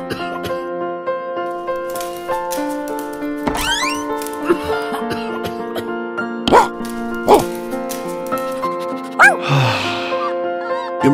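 Small cartoon puppy in the Roblox Brookhaven game gives a few short, sharp yips and barks over a bed of steady synthesized game music, with brief spoken lines in between.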